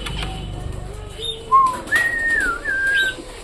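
Pet pigeons in a home colony, including a young Punjabi pigeon, coo softly up close, with brighter whistling, gliding calls rising over the low cooing for a few seconds.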